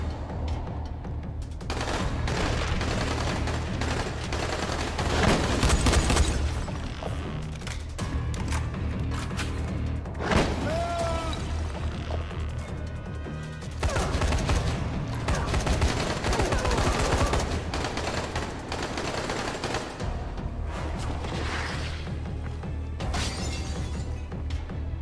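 Gunfire in the video game Dying Light, dense rapid bursts of shots and crashing impacts repeating over a long stretch, loud and close, with brief pauses between volleys.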